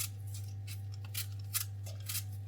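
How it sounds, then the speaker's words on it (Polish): Apples being peeled with a vegetable peeler in a home kitchen, giving a run of short, scraping strokes that repeat at an uneven pace, close and fairly quiet over a steady low hum. "Obieram jabłka tą obieraczką, będzie szybciej."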